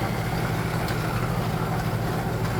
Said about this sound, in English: Now let's watch the fun when we turn this on. There's the ball blower.